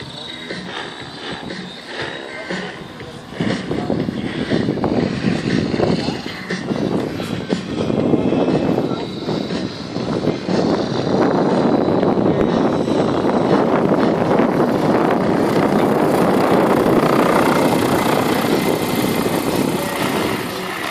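A steady high-pitched whine from a Scorpion electric motor on 12S (44 volts) in a 2.5-metre Jet Ranger RC helicopter, with a whirring drone that swells after a few seconds and holds loud and constant, faint talk beneath.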